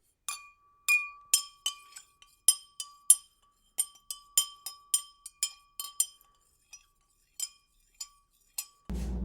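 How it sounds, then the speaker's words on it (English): A spoon stirs microwave brownie batter in a glass dish, giving a series of sharp, bright clinks at irregular intervals, some ringing briefly, then a short burst of rustling noise at the very end. "then we're gonna stir that up a little bit. Just wanna get all of that mixed in really well"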